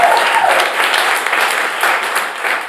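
Live audience applauds the opening act at a radio station's live music show, a steady dense wash of clapping from a sizable crowd filling the whole stretch, fairly close and loud.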